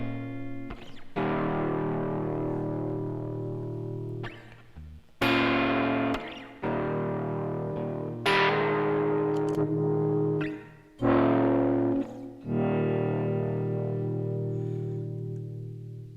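Electric guitar plays through effects pedals, heavy filtered and distorted chords struck repeatedly in phrases, each one sustaining and then cut, alone without any voice.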